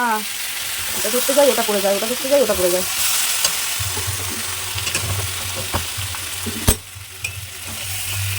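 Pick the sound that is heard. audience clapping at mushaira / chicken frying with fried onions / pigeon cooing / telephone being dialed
chicken frying with fried onions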